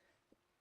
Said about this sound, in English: this cough is going to be the death of me